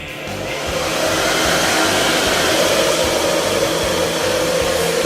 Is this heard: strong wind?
no